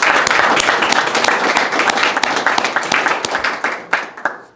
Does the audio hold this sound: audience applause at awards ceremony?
yes